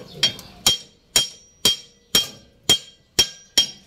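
Eight sharp, evenly spaced hammer taps ring out loud and close on brake parts of a Suzuki 4x4 with an F6A engine, each strike clear and metallic with a short decay.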